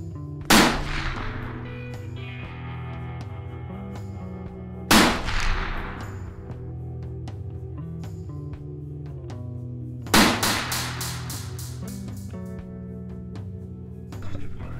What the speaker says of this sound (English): I chose the AK-47.